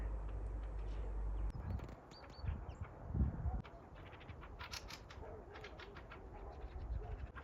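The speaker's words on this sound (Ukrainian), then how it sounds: "Ось там тріщать якісь пташечки." Small birds chirp and twitter in short quick calls at a moderate distance, with some low rustling and outdoor background noise.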